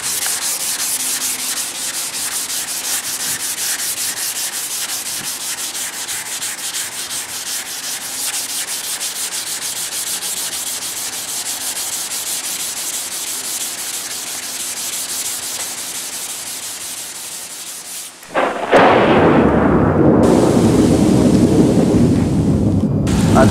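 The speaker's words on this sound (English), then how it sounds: "I'm wet sanding anyway, so it really don't matter." Steady, continuous rasping of wet sanding on car paint outdoors before a candy paint job, running unbroken for a long stretch and then giving way to a louder hissing wash of rain or wind.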